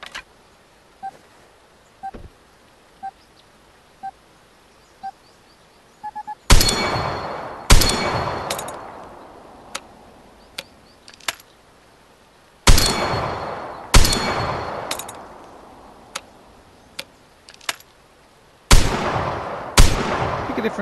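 Gunfire in the video game Vigor strikes metal road signs: a run of faint single shots, then heavy bursts of loud rapid fire with clanging metallic hits, repeated several times.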